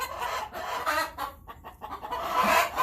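Chickens cluck softly in a small backyard flock, a few quiet, irregular clucks and murmurs close by with no talking.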